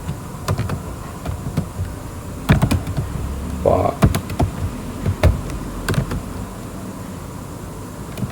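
Keystrokes on a computer keyboard while a GW-BASIC program line is typed, scattered irregular clicks and short bursts spread across several seconds, close and moderately soft over a faint room background.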